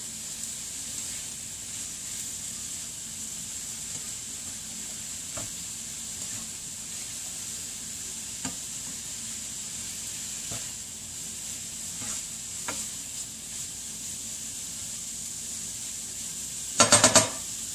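Spices being stirred into food sizzling in a hot pan, a steady frying hiss with faint utensil scrapes and a short clatter near the end.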